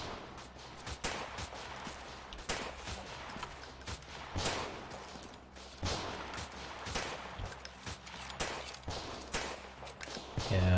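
Pistol gunfire in the shooter Freeman: Guerrilla Warfare, with dense bursts of shots cracking again and again over ten seconds, some close and sharp, others overlapping like distant battle fire, with no voices.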